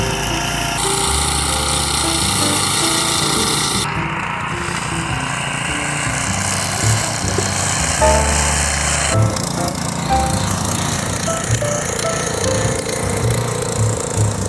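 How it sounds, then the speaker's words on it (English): A lawn mower cuts down a dirt bike path, its engine droning loud and steady and close to the microphone, with shifts in tone as it works through the growth. No one speaks. "I think we're gonna have to probably mow this down"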